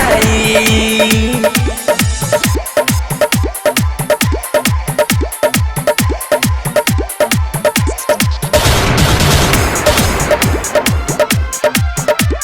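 Rapid gunfire-style bursts used as a sound effect in a Bhojpuri song, loud and rhythmic, repeating in regular beats over the music for the whole stretch, with a denser, noisier patch near the end.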